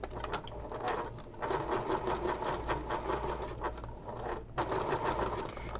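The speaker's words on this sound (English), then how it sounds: "I put on my Teflon foot." A sewing machine with a Teflon presser foot stitching a messenger bag, running in a steady, rapid mechanical whir that pauses briefly twice before resuming, close and continuous with no talking.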